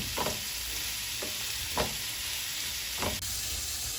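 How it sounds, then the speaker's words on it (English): Onions and carrots frying in a pan for a minced beef pie, a steady soft sizzle with a few brief stirring scrapes, close and alone. "I always fry onions and carrots first"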